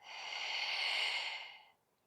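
A long, breathy exhale during a Pilates back-pain exercise, soft and close, swelling smoothly before fading into silence.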